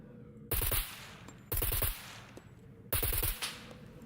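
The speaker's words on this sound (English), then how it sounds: "it was shooting at me from over there" Gunfire in SCUM: three separate loud bursts of rapid automatic shots, each a quick cluster of cracks followed by a ringing tail, spaced about a second apart.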